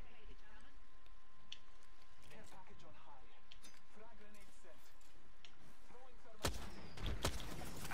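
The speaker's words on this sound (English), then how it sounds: "Ooh, I just hit with a grenade!" Grenade blast and bursts of gunfire in the Apex Legends battle royale game, scattered sharp hits under ongoing player talk, with a loud close explosion near the end.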